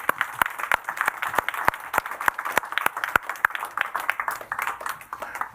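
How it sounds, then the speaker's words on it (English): Applause for panelists at a digital summit leadership stage in Tallinn: a fairly small audience claps in dense, sharp, uneven bursts, close and lively, with no voices over it. "big applause to our panelists"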